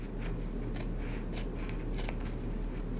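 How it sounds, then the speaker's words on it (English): Scissors cutting through layers of fabric at a bound buttonhole, with a few soft, short snips spaced about half a second apart, close and quiet over a steady low hum, with no talking. "I'm going to cut through this little Y shape to the corners"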